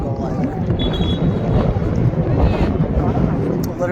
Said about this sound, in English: Like it's so windy.